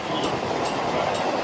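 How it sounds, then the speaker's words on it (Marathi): A train pulls into a station with a steady, loud rumble of wheels and carriages. The noise is continuous and close, with faint rhythmic clatter and no voices. "आता आपली ट्रेन आली"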